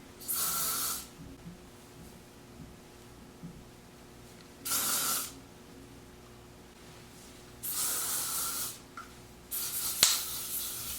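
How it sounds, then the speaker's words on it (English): Kerastase Lac Dentelle hairspray sprayed onto hair in four short bursts of close, crisp hissing, separated by quiet pauses. "But I will apply a little bit of hairspray"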